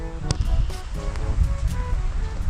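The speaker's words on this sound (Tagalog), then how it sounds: "At tapos yung hangin, no?" Cold wind gusting outdoors on a snowy Chicago day, a steady close rumble with a few brief background tones.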